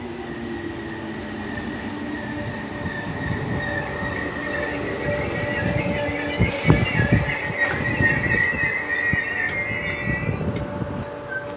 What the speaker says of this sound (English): coming in now is the 1237 Merseyrail service to Liverpool Central from Kirkby, 507-024